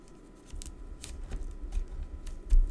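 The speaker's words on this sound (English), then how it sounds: "So I'm going to use a bit of tape." Sticky tape is pulled and pressed onto a thick greeting card during papercraft. It makes a few short, close crackling rips that come and go in a quiet room.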